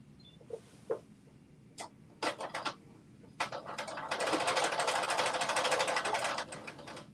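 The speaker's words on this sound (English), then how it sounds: "I'm going to also stitch down right here and close to the zipper teeth, but not over the zipper teeth" A sewing machine stitches down fabric close to a zipper's teeth: a few scattered clicks and short bursts of the needle, then a steady, rapid mechanical run for a couple of seconds before it slows and stops.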